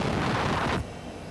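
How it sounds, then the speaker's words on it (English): The Air Florida airliner crashes in deadly weather, and its cockpit voice recorder captures the impact as a loud, dense burst of noise that cuts off abruptly into a quieter hiss. "And that was the sound of the impact."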